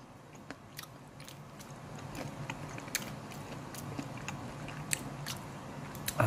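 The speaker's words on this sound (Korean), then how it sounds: "가시를 씹는 소리가 아니라 뭐 채소 씹는 소리가 나죠" Crunchy fried fish rib bones are chewed in a steady series of crisp, close crunches and bites with no talking over them.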